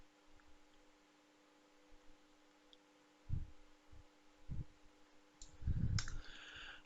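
A computer mouse clicks while a user works in Fusion 360 CAD software. A few faint, soft clicks and thumps are spaced irregularly over a quiet background hum, with no voices.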